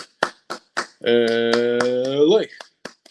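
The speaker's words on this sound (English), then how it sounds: "Hands up, Bruins fans. 8 clap time, baby." A UCLA Bruins eight-clap cheer performed as a sequence of sharp single claps, with a sustained shouted voice held over the middle claps before the last few land alone.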